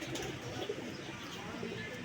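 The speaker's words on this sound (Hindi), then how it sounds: "कबूतर माशाल्लाह फिट है" Domestic pigeons coo softly in low, repeated murmurs within a steady background hum, faint and somewhat distant.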